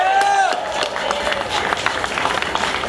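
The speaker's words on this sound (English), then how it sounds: "let's give those student athletes a round of applause" Crowd at a UCF Knights football tour event in downtown Orlando applauding student athletes, a sustained burst of clapping and cheering, with a whistle-like tone near the start and talk mixed in.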